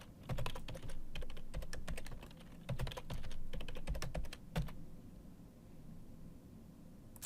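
Fingers typing a password on a computer keyboard during firewall setup, a quick burst of close, crisp key clicks in irregular rhythm that thins out and stops, leaving quiet room hiss.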